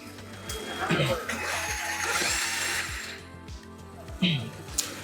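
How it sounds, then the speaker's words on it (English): An FRC competition robot's shooter, urethane wheels driven by a Kraken X60 motor, whirs up to top speed with a steady mechanical drone, then feeds balls through with a few sharp thumps near the end. "it will wait for the shooter to get up to max RPM before it sends the ball through the feeder"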